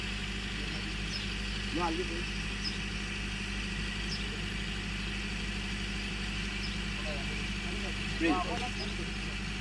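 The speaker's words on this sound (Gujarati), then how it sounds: "ટ્રેક્ટર આવે છે" A tractor engine runs at a steady, low idle in the background, a faint, even rumble that continues throughout while people talk nearby.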